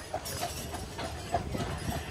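Horse hooves clip-clop on a street on Mackinac Island beside a livery stable that rents saddle horses and carriages, with faint, evenly spaced hoof strikes over soft outdoor background noise.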